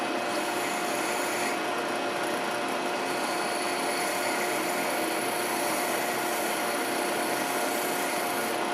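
Sandpaper rubs steadily against a small wooden icicle ornament, a continuous close, even rasping scrape that runs unbroken the whole time with no pauses or talk.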